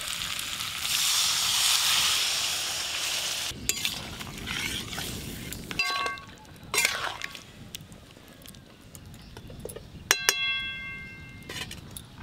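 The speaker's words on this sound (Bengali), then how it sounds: "আলুর দমটা বসিয়ে দিয়েছি, আলুর দমটা ওদিকে হতে থাক" Aloo dum, a potato curry with fried potatoes and water, bubbling and sizzling in a pan with stirring, followed by scattered metallic clinks of a utensil against the pan, near and moderately loud.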